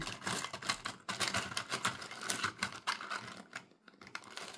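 A pile of tarot cards is shuffled by hand, giving dense, rapid, close riffling and slapping clicks in irregular bursts, fairly quiet, with no voice heard.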